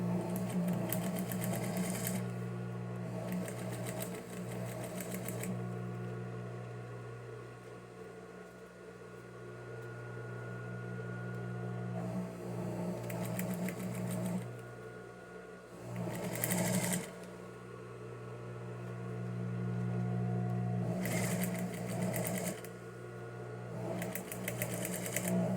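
A sewing machine stitches along a plastic edge while binding is attached for a dental hygiene kit. The motor runs in long, steady bursts with short pauses between them, close and loud, and no one speaks.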